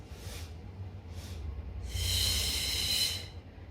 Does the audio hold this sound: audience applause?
no